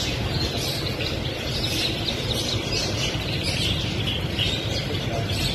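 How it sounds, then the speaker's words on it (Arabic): Many ornamental cage birds for sale at a bird shop in Zafaraniya, Baghdad, chirping and singing at once, a dense steady chorus of overlapping tweets under loud continuous background noise, with no voices. "تشاهدون التغريد مالتهن"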